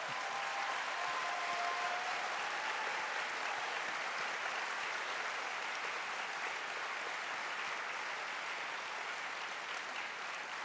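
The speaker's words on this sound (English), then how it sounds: "It is worth applauding their service" Steady, sustained applause from a large audience in a general session hall at a Unitarian Universalist assembly, an even wash of clapping throughout.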